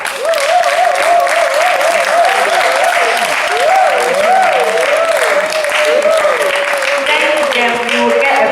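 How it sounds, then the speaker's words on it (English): Sustained, loud clapping from a summer camp crowd for the chair makers, with voices chanting or calling over the applause throughout. "Chair makers, clap for them"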